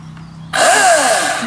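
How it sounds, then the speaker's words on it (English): A chainsaw starts up abruptly and runs loud and steady for felling a tree in the Highlands, a harsh buzzing whine with shifting pitch as the engine revs, close by and with no talk over it. "Tom's now on the chainsaw."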